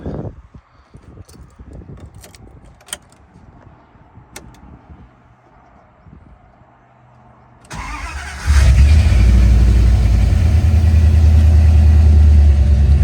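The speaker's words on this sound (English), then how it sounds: "I'll go ahead and start it up." A 1994-97 Dodge Ram second-generation pickup engine cranks and catches around eight seconds in, then settles into a loud, steady idle after a few quiet clicks and rattles.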